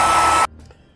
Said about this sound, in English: I'm going to take a hairdryer to this and help it along with the drying a little bit.